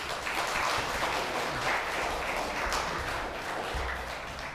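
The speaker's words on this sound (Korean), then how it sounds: "우리 다 같이 박수하도록 하겠습니다" A church congregation in Korea claps at a Sunday afternoon worship service, a soft, even wash of many hands heard from a distance and continuing throughout.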